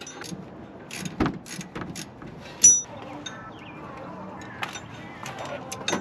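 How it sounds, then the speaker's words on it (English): A ratchet with a 14 mm socket tightens a bolt on a replacement remanufactured power steering pump in a Toyota Tundra 5.7, giving scattered quick clicks and metallic ticks close by. "grab your 14 mil. Go ahead and start tightening that down"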